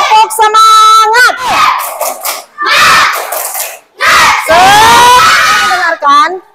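A classroom of children shouts a spirited rhythmic cheer in loud bursts, with clapping mixed into the chorus of young voices.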